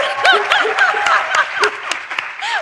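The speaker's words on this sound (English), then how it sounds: "Big round of applause." Studio audience applauding during an interview, a dense, steady wash of clapping hands with voices and light laughter mixed in throughout.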